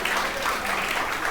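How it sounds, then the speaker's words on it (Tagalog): A church congregation claps for Jesus during a worship service, a dense, even wash of applause filling the short moment without a break. "Ayan, palakpakan po natin si Jesus"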